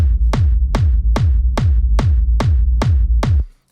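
A hardgroove techno kick drum layered over a warped rumble pounds out eight punchy hits at a steady tempo, loud and booming with a sustained low tail, then cuts to silence.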